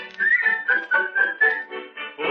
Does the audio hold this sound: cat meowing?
no